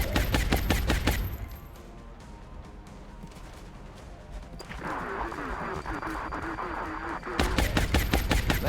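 Sniper fire in XCOM: Enemy Unknown, sharp rapid cracks bursting at the start and again at the end, with a droning battlefield hum between them while a voice talks over it.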